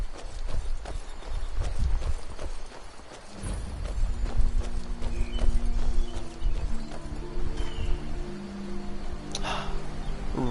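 Horse hooves clip-clop steadily in a video game, a continuous rhythmic trot of impacts over a constant background, loud and close with no talking.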